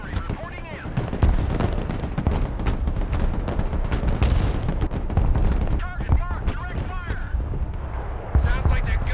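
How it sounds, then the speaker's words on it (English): Artillery hits land in the Broken Arrow modern warfare strategy game, a dense stream of booms and crackling gunfire with overlapping explosions, loud and continuous, while a voice talks over the battle. "Great artillery hits."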